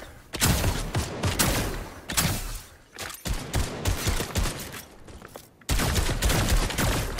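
Rapid bursts of gunfire from the video game Fortnite fill the scene, loud and dense with near-continuous shots and brief pauses, while players talk over the action.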